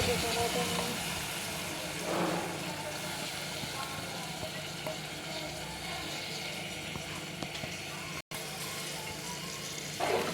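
Dal tipped into a hot pan for masala pappu gives a steady, close, broadband sizzle that goes on unbroken with slight stirring noise.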